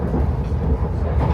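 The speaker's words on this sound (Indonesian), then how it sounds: "Kita udah di kereta menuju Zandvoort." A low, steady rumble of a moving train carriage heading to Zandvoort, Netherlands, continuous and close, with no talking.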